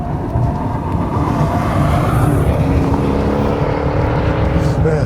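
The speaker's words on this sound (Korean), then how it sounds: "다른 마세라티 모델들도 이 배기 사운드 부분에서는 상당히 일품인데" A 2018 Maserati Quattroporte GTS on the move, its engine and exhaust producing a steady, rising drone with rumble and road noise, loud and continuous from inside the car without talk.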